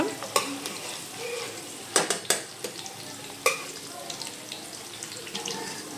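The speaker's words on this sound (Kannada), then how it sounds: "ಒಂದು ಸಲ ಈ ಥರ ಫ್ರೈ ಮಾಡೋಣ." Green masala paste for chicken palav stirred and fried in a pan, giving a soft steady sizzle with several sharp scrapes and clinks of the spoon against the pan, heard alone at moderate distance.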